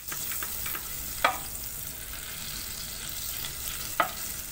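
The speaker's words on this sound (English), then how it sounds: "let's melt the butter in the pan" Butter melts over low heat in a pan as the base for a lasagna cheese sauce. A soft, even sizzle hisses throughout, broken by two sharp utensil taps on the pan. No one speaks.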